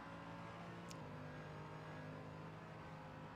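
Mercedes-AMG GT3 race car with a V8 engine in a racing video game at Mount Panorama, a steady droning engine note held at moderate level throughout, with a brief high whine near the start.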